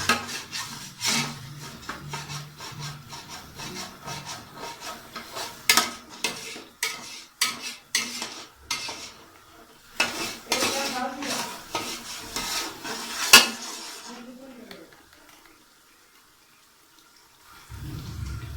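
Chicken biryani masala is stirred and roasted in a pot, giving irregular scraping and clattering spoon strokes against metal with a soft sizzle underneath, then a quiet pause near the end.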